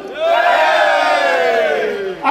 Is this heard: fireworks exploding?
no